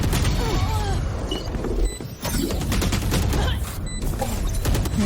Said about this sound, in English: at least knowing where those gunshots were, where Bruno might need to watch